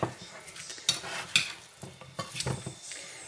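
A spoon works through chopped pico de gallo in a bowl, giving close, wet squelching stirs with a few sharp clicks of the utensil against the bowl's side, in uneven strokes.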